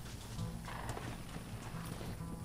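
Horse hooves clip-clopping in the Red Dead Redemption video game, a faint, steady rhythm of soft beats over a quiet background.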